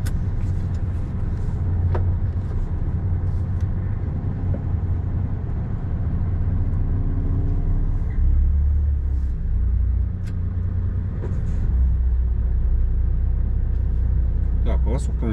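A car idles and creeps backward in a traffic queue, its low engine rumble steady throughout with brief swells as it shifts and straightens up, while people talk nearby inside the vehicle.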